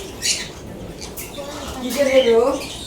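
Caged birds at a bird seller's stall chirp and flutter in short bursts, with a brief brighter call near the end, under market voices talking nearby.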